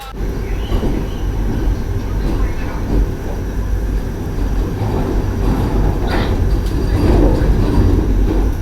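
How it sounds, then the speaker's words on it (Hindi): Vande Bharat Express train pulling out of Madurai Junction, heard from inside as a steady, loud low rumble of wheels and carriage noise, with faint squeals and brief voices in the background. "मदुरई जंक्शन से तो अभी अपनी ट्रेन निकल गई है"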